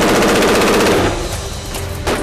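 Rapid gunfire from a SIG Sauer SIG 516 AR-platform tactical rifle, a loud, close burst of automatic shots that fades into echoing reverberation.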